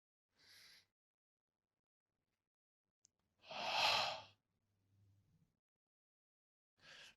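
Slow, deep breaths during a guided meditation session, with a long audible exhale heard close up and separated by quiet pauses.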